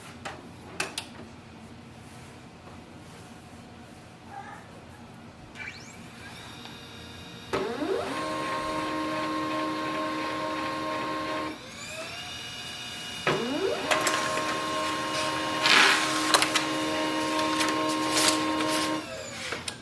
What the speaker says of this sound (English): Let's print a test page.